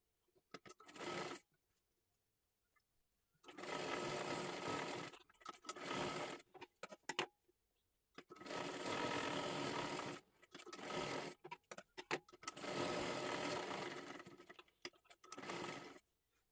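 A sewing machine runs a straight seam on a child's kathpadar silk sari, in several steady bursts of close mechanical whirring separated by short pauses and a few clicks.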